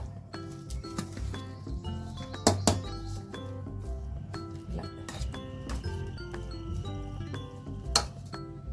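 Tamarind rice (pulihora) is mixed in a pot, with frequent light metallic clinks and taps of a utensil against the vessel over a low background, no speech.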